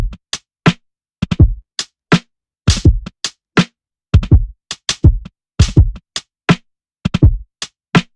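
A dry, punchy drum loop with saturation and reductive EQ plays alone: sharp kicks, a tight snare and clipped hits repeat in a steady groove over clean silence.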